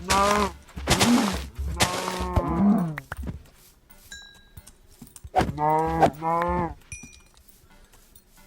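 Cows in a video game low several drawn-out, bending moos in two clusters, with light metallic clinks in the gap between them.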